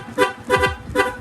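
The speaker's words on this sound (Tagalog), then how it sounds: "Yung busina ni sir, ito na po, no?" Horn of a Sniper 155 motorcycle being tested, three short, slightly hoarse honks in quick succession, loud and close.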